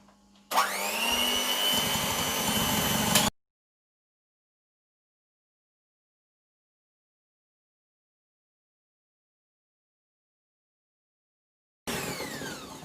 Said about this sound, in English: We want to mix it until it becomes pale, and I'll add sugar gradually.